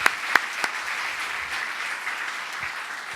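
An audience at a Buddhist monk's Q&A session applauds together, a dense, steady wash of clapping from a crowd with a few sharper individual claps standing out at the start.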